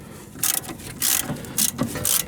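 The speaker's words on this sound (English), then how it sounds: "So we're gonna loosen this fork bolt first." A ratchet loosens a fork bolt on a 30-year-old Honda Civic during a strut swap. It gives three or four short bursts of rapid clicking close by, with brief pauses between them.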